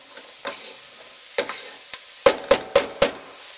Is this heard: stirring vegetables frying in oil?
yes